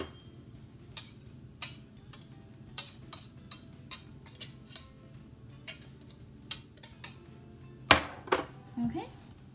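Short sharp ticks and taps from a pastry cutter being scraped against a bowl while making Irish soda bread, spaced irregularly, with a louder clatter near the end and a voice talking faintly beneath.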